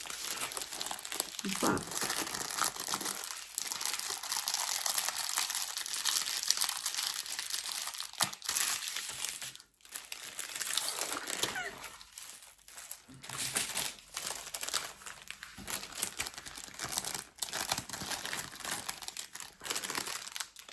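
Plastic and cardboard packaging from a diamond art kit crinkles and crackles continuously while being stuffed back into its box, close and busy with brief pauses, and a voice speaks briefly.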